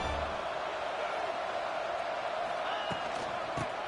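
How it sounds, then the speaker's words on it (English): Football stadium crowd roaring steadily near the goal line as the home defense tries for a stop, a dense sustained wall of cheering and noise with a few sharper shouts late on. "the crowd really making some noise now, trying to help out this defense to get this stop near the goal line"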